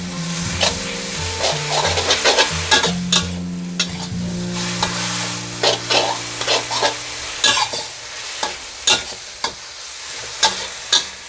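Glass noodles stir-fried with carrots and other vegetables in a wok, a steady sizzle broken by repeated loud scraping and clattering strokes of the spatula against the pan, close up, with no talking.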